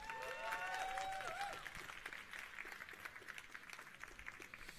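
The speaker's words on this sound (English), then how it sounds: "Round of applause to welcome Mr." A student audience at a Campus Party startup session claps to welcome a speaker, steady mid-distance applause with a brief voiced whoop near the start, faint overall.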